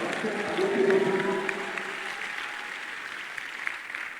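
A church congregation applauding in a steady wash of clapping that swells early and slowly fades, with a voice speaking over the crowd.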